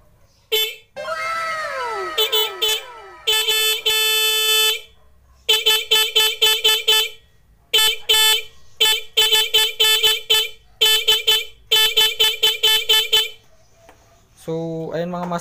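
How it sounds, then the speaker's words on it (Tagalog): Horn of a Motorstar Zest X 110 motorcycle sounding in many short, sharp bursts, some held longer, loud and close, with a stretch of speech early on and a lower tone near the end. "Nakita nyo, gumana yung ating busina."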